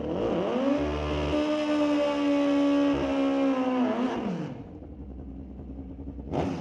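Superbike drag racing motorcycles at a semi-final round, a loud, steady engine drone held for several seconds before it drops off, then a short final burst of revving.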